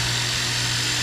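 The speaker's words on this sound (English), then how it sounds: "you're just going to drill a hole straight through into the backing plates." A power drill bores a hole straight through kayak steering backing plates, a loud steady whine held close and continuous for about a second.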